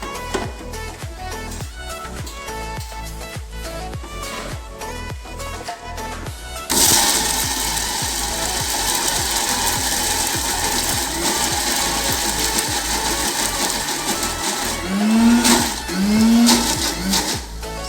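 An electric kitchen mixer grinder blending chutney grinds and whirs loudly, first in clattering pulses, then in one long continuous high-pitched run, close by with no talking.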